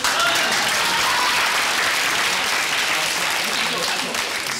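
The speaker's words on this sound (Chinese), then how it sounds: "同学，鼓掌。" Classmates in a music classroom applaud, a dense, even burst of clapping that stays loud and continuous throughout.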